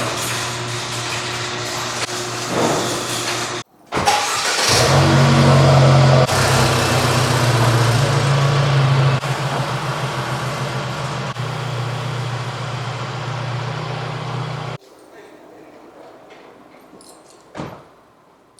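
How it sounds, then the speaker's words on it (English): A Mercedes is started and pulled out of a garage: a door sound, then a loud close engine idle and rumble that holds steady for about ten seconds, drops away, and ends with a short final clunk. "I'm gonna pull this car out of the garage"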